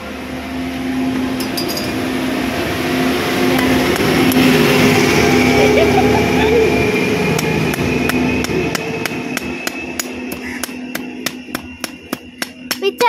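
A broom is cut to shorten it: after a stretch of background hum and rustling, a series of sharp, evenly spaced chopping strikes lands close by, growing more regular toward the end.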